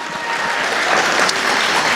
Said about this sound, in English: Can we give them a round of applause, our student workers that are here?